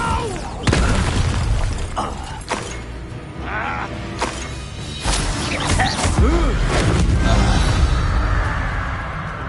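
Spell-blasting explosions from a Hogwarts Legacy battle with goblins: repeated loud booms and bursts come in close succession, under and between shouted spell incantations and game dialogue, with crackling debris and mechanical creaks throughout.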